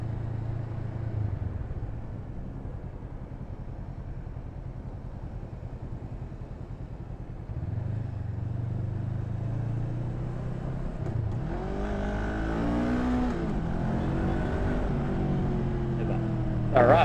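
Honda Rebel 500 motorcycle on a road ride, its engine rumbling steadily and pulling harder as it accelerates, with wind noise over the exhaust throughout.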